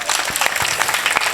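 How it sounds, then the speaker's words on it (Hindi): An audience at a welcome ceremony claps, a dense burst of applause from a crowd that is loud and close, with no voices over it. "ताली बजाइए।"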